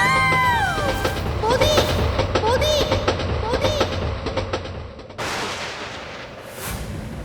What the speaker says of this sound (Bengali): শুনছেন শুনছেন ট্রেন আসছে সরে দাঁড়ান